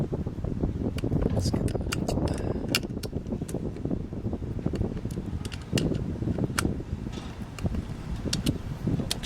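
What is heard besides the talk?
wind blowing into the microphone outdoors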